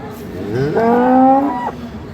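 One loud, close, drawn-out moo from a cow lasts about a second at a busy rural cattle market selling dairy cows and calves, with market noise underneath.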